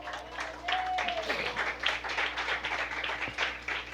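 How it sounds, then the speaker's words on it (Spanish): A church congregation clapping hands together during a Spanish-language worship service, a dense, steady patter of many hands at moderate volume, with voices mixed in beneath. "Le damos fuertes palmas al Señor"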